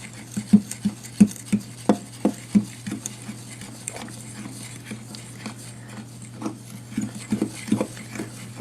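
Bath bomb powder ingredients being mixed by hand, soft rhythmic patting and squishing strokes that come in a steady series, pause, then resume, close and fairly quiet over a low steady hum.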